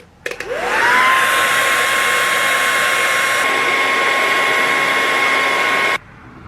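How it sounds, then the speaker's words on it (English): A hair dryer on cool, high setting blasts on at full power with a loud, steady whooshing roar that holds for several seconds, then cuts off abruptly. "I'm just about to use a blow dryer just to make sure everything, and this is on cool high."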